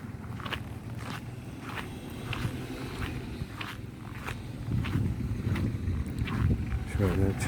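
Small tourist canal boats idle on the water in Dalyan, Turkey, beneath a steady rhythm of nearby footsteps, with wind and faint voices in the background.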